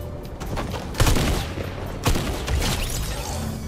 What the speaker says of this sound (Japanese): ずっと撃ってる音がしてたんですけど